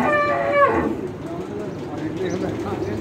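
Cows and buffaloes on a dairy farm in Pakistan, one animal lowing loudly at the start, then a busy farmyard murmur with indistinct voices in the background.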